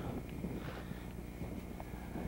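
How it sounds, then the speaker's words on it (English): Wind buffets the microphone in a steady low roar, with gusty rumble throughout and no voices. "Oh, it's getting windy here."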